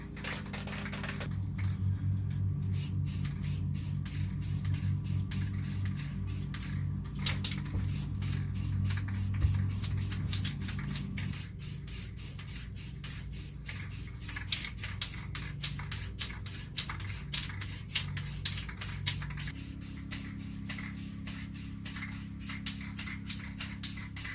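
Spray painting the face of a car wheel with the valve stem taped over gives a steady close hiss of paint spray with rapid rattling clicks running throughout, the tone shifting slightly midway.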